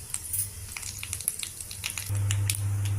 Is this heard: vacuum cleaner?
no